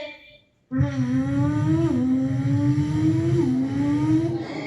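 A voice imitates a motorbike passing close by, a loud, sustained engine drone whose pitch rises and shifts up through the gears for several seconds, at a school mimicry competition.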